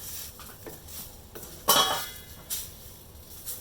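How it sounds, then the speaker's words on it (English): A spoon scrapes and clinks against a pan while bread poha with masala is stirred, uneven strokes with one sharper metallic knock, close and alone. "Just keep stirring this because bread will stick to the bottom."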